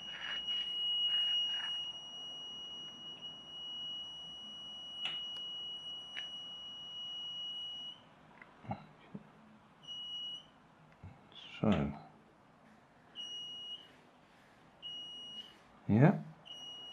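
A DIY non-contact metal detector kit running on a 3.7-volt LiPo battery sounds a steady high electronic alarm tone that cuts in and out, while someone talks and handles things nearby.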